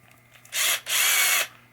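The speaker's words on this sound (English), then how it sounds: "This is a little 4-inch adapter that goes on the drill for polishing." A drill fitted with a 4-inch polishing adapter, used with Novus 2 polish, whirs in two short bursts, about a quarter second and then half a second, with a brief gap between them. The sound is close and fairly faint.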